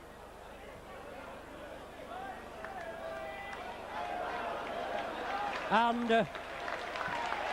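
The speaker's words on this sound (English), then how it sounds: "Phil Beavers receiving rapturous applause here" Rugby league crowd at a 1987 St Helens v Hull KR match gives rapturous applause for a substituted player, a broad roar of clapping and cheering under a commentator's speech and a few whistle-like tones.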